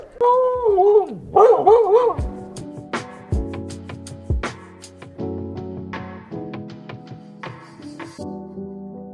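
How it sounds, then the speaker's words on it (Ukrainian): Dogs whine and yelp briefly outdoors, followed by scattered sharp clicks and taps with a faint steady hum underneath. "Ми взяли з собою собак і зараз підемо трошки вигуляємо їх"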